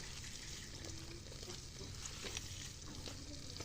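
Raw curry is mixed by hand with garlic paste, turmeric, chili paste, salt and oil, a quiet, steady wet squishing and rustling that continues throughout, close and soft with no speech.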